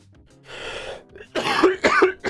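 A man coughs close to the mic, a short throat rasp followed by two harsh, loud coughs in quick succession.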